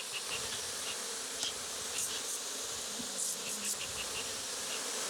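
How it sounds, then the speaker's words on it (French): A steady, dense buzz of many honeybees around a hive fills the air, close and continuous, with occasional individual bees zipping past. "J'entends le ronflement des abeilles, elles changent."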